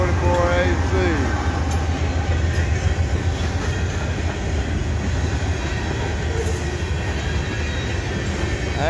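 A freight train rolls steadily past at close range, a continuous loud rumble and rattle of cars with brief wheel squeal near the start.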